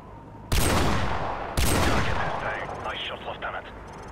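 Two loud rifle shots ring out in a war video game, each a sharp blast with a long rolling echo, about a second apart, and a faint mechanical rattle trails after the second.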